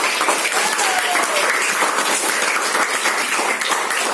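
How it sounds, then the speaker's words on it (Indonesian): A classroom audience bursts into dense, continuous clapping, loud and close, filling the whole stretch with no voices on top. "tepuk tangan untuk kita semua dulu"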